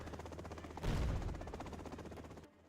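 Chinook helicopters taking gunfire in the video game C&C Generals Zero Hour: a rapid, rattling run of machine-gun shots with a louder burst of impacts in the middle, then cutting off abruptly.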